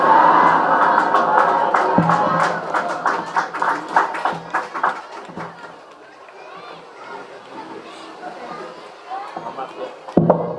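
Students at an Islamic boarding school ceremony break into applause, a dense crowd clapping that swells then thins out, with a voice speaking over it.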